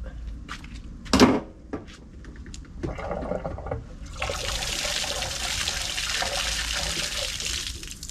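Water flushing through pressure washer parts: a sharp knock, a few clatters, then a steady rushing hiss of running water that builds and continues to the end.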